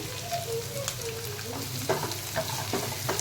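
Green chillies drop into a hot pan and sizzle with a steady, close frying hiss, light crackles popping through it, while cooking methi matar malai.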